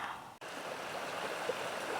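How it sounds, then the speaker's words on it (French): A small stream in a roadside ditch flows in winter, a steady close rush of water broken only by a brief dropout near the start. "Ça, c'est mon autre ruisseau dans mon chemin."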